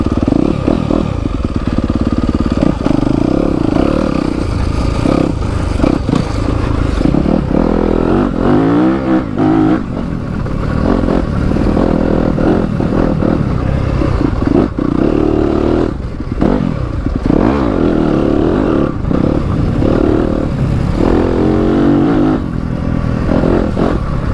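A 2021 Yamaha YZ250FX dirt bike engine runs loud and close throughout, revving up and down continuously as it is ridden, with clatter and scraping mixed in.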